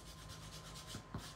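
Quiet, rhythmic rubbing of sandpaper on a rubber stamp, close and steady, with several back-and-forth strokes and no talking.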